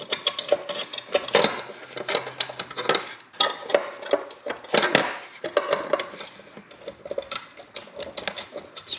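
Metal bolts being started by hand on a Kawasaki H2 750 motorcycle near the taillight area, a close run of small scraping clicks and taps with metallic rattles, irregular and busy, with no talking.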